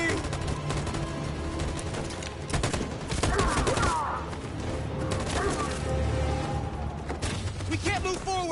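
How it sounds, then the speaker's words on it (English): Machine gun fire in Detroit: Become Human rattles in dense, continuous bursts across a loud battle scene, layered with booms, mechanical noise and shouted voices. "That machine gun is taking down everything that moves!"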